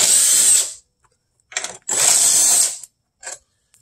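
Two 10 mm bolts are backed out of the air filter box on a BMW E90-series with a power tool, heard as short, close, loud whirring bursts with brief silences between them.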